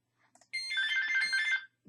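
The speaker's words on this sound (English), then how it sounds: "my phone has to always go off in the tutorial" A mobile phone rings with a bright electronic ringtone, loud and close, starting after a few soft clicks and lasting about a second before cutting off.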